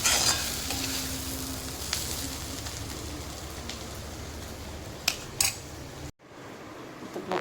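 Onions frying in a pan until brown for a spicy mutton curry, a steady close sizzle and crackle with occasional stirring scrapes, ending in a brief cut to near quiet.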